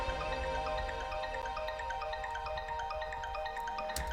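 Synth arpeggio emulating an original track for another track: a soft, fast repeating pattern of bright plucked notes over a sustained tone, steady and fairly quiet, with no voices.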